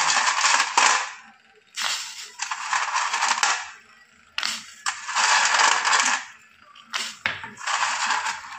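Bursts of small hard soybeans pouring and rattling into a metal pot of salted water, several rushes separated by short pauses, fairly close.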